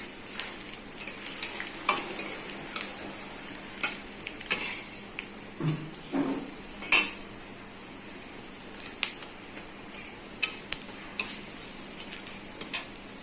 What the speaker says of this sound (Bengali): বাদাম ভাজা হচ্ছে